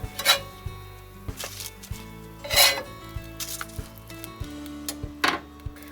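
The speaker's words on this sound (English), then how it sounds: "I'm gonna move these onto a parchment paper lined tray, and I'm gonna throw these in my toaster oven" Cooked breakfast items shifted from a pan onto a parchment-lined tray while making a homemade McGriddle: scattered metallic clatters, knocks and scrapes of pans and utensils at irregular intervals over a low steady hum.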